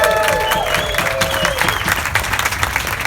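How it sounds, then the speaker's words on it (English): A crowd at an outdoor street dedication applauds steadily, with dense clapping, a few cheers and whistles, and no speech over it. "Please give them a round of applause, first of all."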